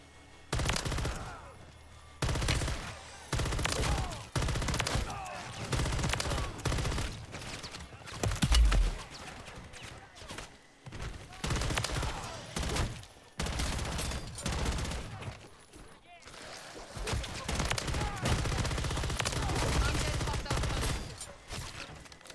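Gunfire in Call of Duty MW3 Zombies, loud repeated bursts of automatic fire in clustered volleys with brief pauses, plus a faint voice in between.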